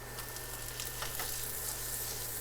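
Shrimp hitting a hot pan with shallots set off a steady, close sizzle, with a faint clink and scrape of a wooden rice paddle now and then. No one speaks.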